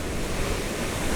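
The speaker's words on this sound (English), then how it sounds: "the sea is so strong, so the waves are crashing so hard" Strong sea waves crash onto rocks on the Madeira coast, a loud continuous roar of surf and spray with wind buffeting, no voices.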